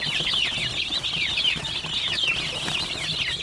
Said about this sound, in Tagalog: So yan mga sisiw,